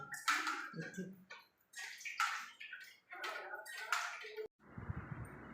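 Rainwater running down a set of stairs during a day of nonstop rain, heard as a steady wet rush in the last second after a stretch of people talking.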